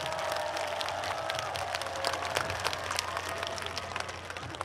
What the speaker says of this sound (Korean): 여러분 이건재 시장님께 다시 한번 큰 박수 부탁드리겠습니다.